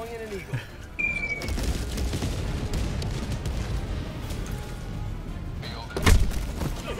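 An eagle airstrike in the video game Helldivers 2 lands amid ongoing battle noise, a dull rumbling din that swells into a loud, heavy explosive boom near the end, with scattered gunfire-like cracks and thuds.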